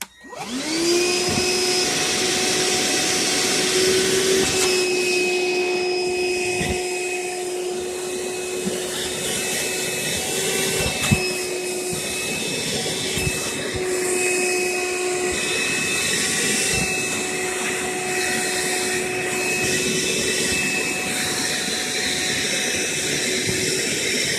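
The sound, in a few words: Hercules cordless wet/dry shop vac vacuuming up debris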